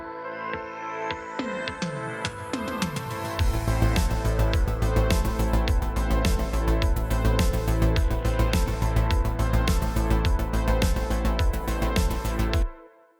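A synthwave backing track plays its groove unmastered, a synth intro swelling into a dense, steady beat with pounding low end and bright layered synths, loud and continuous until a sudden stop.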